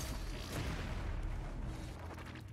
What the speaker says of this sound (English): Much bigger explosion.